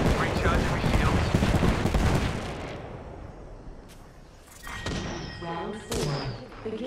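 Gunfire in an Apex Legends match as Lifeline, a dense stretch of rapid shots and thuds for the first few seconds, then quieter scattered bursts and game effects.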